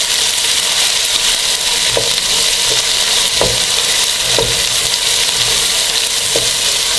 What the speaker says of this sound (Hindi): अब हम डालेंगे अदरक लहसुन का पेस्ट 1 टेबलस्पून भर के। इसको मिक्स करेंगे।